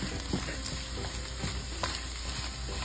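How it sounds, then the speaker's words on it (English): Butter melting in a pan for fried rice gives a steady, close, dense sizzle, broken by soft stirring scrapes throughout. "Actually, we gotta melt the butter."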